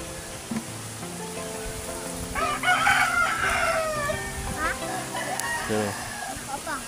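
A rooster crows nearby in a long, strained call, with faint clucking and light outdoor background noise around it.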